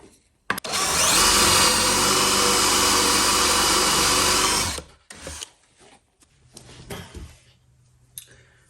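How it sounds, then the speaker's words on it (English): A power drill whines loudly and steadily for about four seconds while drilling a pocket hole in wood, then stops, followed by scattered handling knocks and clatter. "I'm going to drill a pocket here, then a hole all the way through"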